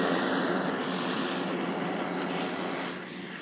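A compact tractor pulling a finish mower runs steadily in a hot, dusty Florida field, a loud continuous engine drone with broad mechanical whir that eases off slightly near the end.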